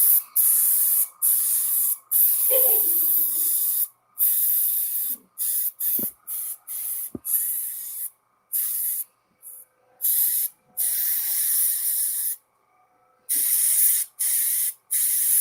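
A paint spray gun sprays in loud, hissing bursts that start and stop abruptly and repeatedly, with short quiet gaps and a few faint clicks and knocks between them.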